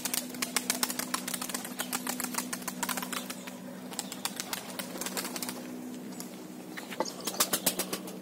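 Young fantail pigeons take off in rapid bursts of wing flapping, heard as fast clattering beats that come in clusters, fairly close over a steady low hum.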